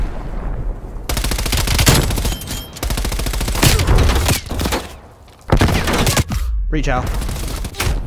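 Bursts of automatic gunfire and heavy shots in a Call of Duty: Black Ops Cold War multiplayer match, loud and close, coming in rapid volleys with short pauses, while a voice talks briefly.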